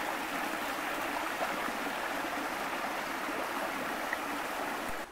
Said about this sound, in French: Là, ici, ça coule encore bien.